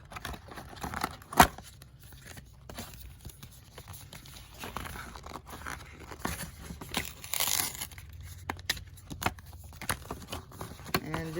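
Tape being torn open on a Cricut mug press box, with crinkling packaging and scattered sharp rips close by, one loud tear standing out early on.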